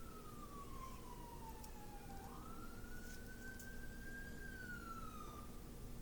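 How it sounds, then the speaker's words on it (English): An ambulance siren wails in the street outside, its long rising and falling tone heard faintly through walls at a distance as it passes. "Oh, it's an ambulance. It just went by out there in the street."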